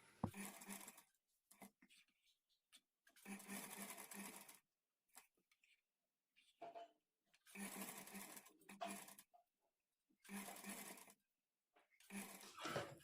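Sewing machine stitching thread piping along the edge of a lined blouse, running in several bursts of a few seconds each, separated by pauses, close and moderately loud with no talk.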